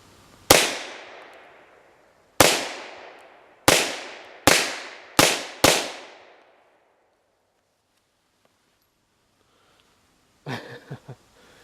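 Six sharp, loud shots from a Japanese Type 94 pistol fired at a target, each with a ringing decay, the first two spaced apart and the rest in quicker succession, then quiet and a brief clatter at the end.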